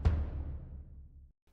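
A single tom drum sample from a drum rack strikes once with a deep, resonant boom that rings out and decays smoothly before cutting off, followed by brief near-silence.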